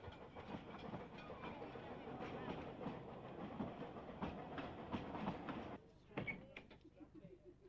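Narrow gauge train No. 4 rolls through at Dolgoch station on the Talyllyn line to Tywyn, with a steady rumbling and clattering of wheels on rail, fairly distant, easing slightly near the end.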